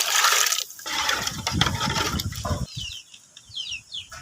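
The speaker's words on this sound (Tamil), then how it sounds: "தேவையான அளவு தண்ணி ஊற்றிக்கலாம்" Water splashes and pours into a biryani pot over a wood-fired stove for a few seconds, a gurgling stream that trails off into quieter bubbling and faint chirps.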